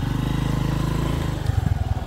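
A motorcycle with a dead starter is kick-started and its engine chugs close by in rapid, uneven pulses that grow choppier toward the end.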